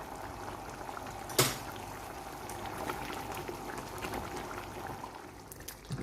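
Chicken karhai in tomato sauce bubbles and simmers steadily in the pan as liquid cooks off, with a single sharp clank from a utensil early on and a soft, continuous burble throughout, no talking.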